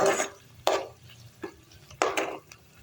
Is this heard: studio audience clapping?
no